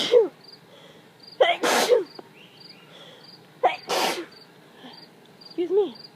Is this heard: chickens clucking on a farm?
no